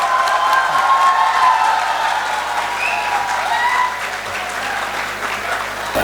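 A large conference audience at an inaugural session gives sustained applause to welcome a university guest to the dais, dense and loud throughout with a faint tonal hum underneath.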